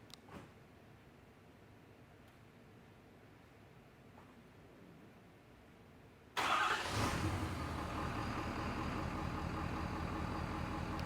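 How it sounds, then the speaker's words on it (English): A Ford F250 pickup (2017-2019 model years) starts remotely: after a quiet stretch, the engine abruptly fires up close by and settles into a loud, steady idle that continues to the end. "So I'm going to remote start my truck."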